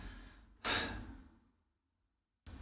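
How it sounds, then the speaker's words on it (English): A single slow, breathy snore rises and fades over about a second, then cuts off into silence before another breath begins, in a Dark Souls game. "Wait, is that snoring?"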